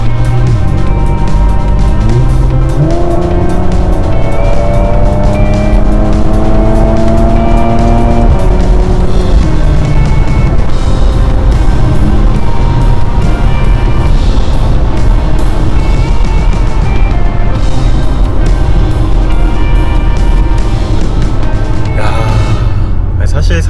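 A Porsche Macan GTS turbocharged SUV engine revs and pulls hard with rising pitch from about 80 km/h, loud and sustained over steady road and wind noise, with a driver talking intermittently.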